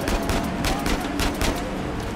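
Rapid gunfire in an Uncharted 4 shootout, with a dense, continuous burst of automatic shots and cracking reports filling the whole moment at close range.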